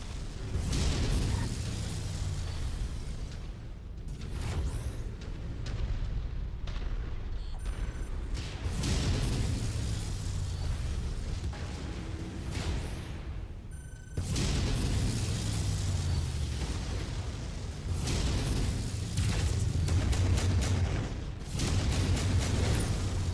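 Mechs in MechWarrior 5 blown apart during battle, with repeated heavy booms and crashing blasts rolling over a constant loud mechanical rumble of machinery.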